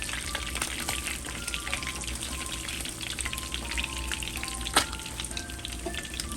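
Mustard-coated fish frying in hot oil in a pan on a stove for a Southern-style fried fish recipe, giving a steady, close, busy sizzle with crackling pops and one sharper spatter near the end, and no voices.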